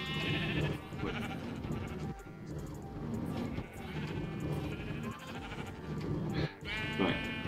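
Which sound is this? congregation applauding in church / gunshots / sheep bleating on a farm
sheep bleating on a farm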